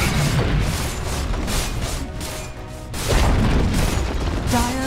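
In the video game Dota 2, the middle tower crumbles under attack with a loud, sustained crashing boom and rubble-like rumble, layered over busy battle effects and game music.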